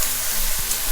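Steak sizzles in a frying pan, a dense, steady hiss and crackle of fat close to the microphone, loud and unbroken for a second with no voices.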